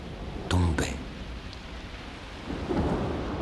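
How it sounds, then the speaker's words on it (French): Rain falls steadily in an audio drama soundscape, with a sharp crack of thunder early on and a low rumble building near the end, all fairly faint. "La pluie tombait,"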